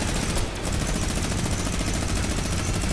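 Dense, continuous gunfire from a Fortnite-style battle royale game's Air Royale mode, a loud unbroken rattle of rapid shots filling the whole stretch with barely a pause.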